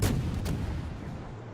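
Atlanta cruiser naval guns firing in World of Warships: a heavy boom opens the moment, quickly followed by a second report, then a rumbling decay fading away.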